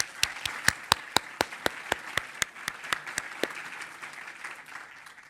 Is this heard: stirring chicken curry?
no